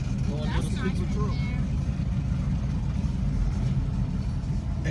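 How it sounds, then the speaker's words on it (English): A car drives around at an outdoor car show, its engine giving a steady, fairly close rumble while people talk over it and crowd noise fills the background. "Kennard, is this what I think it is coming around? What? This car right here."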